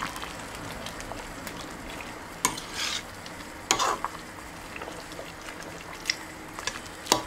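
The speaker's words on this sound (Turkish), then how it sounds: "Böyle reçelimiz kaynamaya devam ediyor." Quince jam with quince seeds bubbling in a pot, a steady soft simmering hiss with occasional sharp clinks and knocks of a spoon against the pot.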